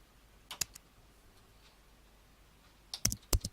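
Computer keyboard keys clicking as a web address is typed into a browser's address bar: a couple of quick taps near the start, a quiet pause, then a short cluster of sharper keystrokes at the end, close and clear.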